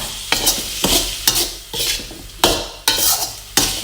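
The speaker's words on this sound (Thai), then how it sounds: "เราก็จะผัดให้ แครอทนะคะ นุ่มตัวลงนิดนึงเนาะ" Pork cracklings dry stir-fried in a pan with chili paste and carrot: loud, close spatula strokes scrape and toss about twice a second in a steady rhythm over a sizzling background.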